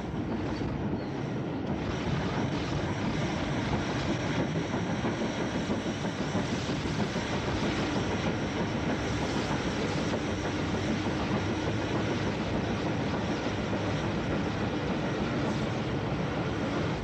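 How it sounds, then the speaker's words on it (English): A vintage Southern Railway Baltic tank steam locomotive runs past on a flyover beyond a junction, a steady loud rumble of wheels and rhythmic clatter over old, hissy recording noise, with no voices. "on the flyover beyond the junction, these lovely shots of the Baltic tank can be seen"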